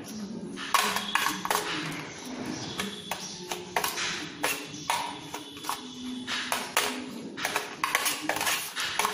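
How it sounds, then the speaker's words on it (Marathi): Flour being mixed into a bird food mixture in a bowl, with a steady run of quick clinks and taps of a utensil against the bowl, close by and fairly quiet. "यामध्ये आपण पीठ थोडं मिक्स करून घेऊया"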